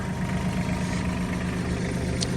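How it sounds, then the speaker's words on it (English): Mahindra 1526 compact tractor, built by Mitsubishi, with its diesel engine running at a steady idle, a close, even low rumble and throb without change. "the Mahindra 1526. Now, this is a tractor that's completely built by Mitsubishi"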